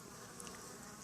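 Honey bees buzz on hive frames during a colony split, a faint, dense, steady hum with no voices over it.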